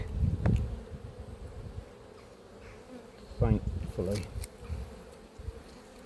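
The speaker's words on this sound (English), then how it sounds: "these are all grumpy bees, not from the good colony, but from the other colony" Agitated honey bees buzz close by around a hive at an apiary with a continuous drone, individual insects whining past now and then; a voice says a word briefly.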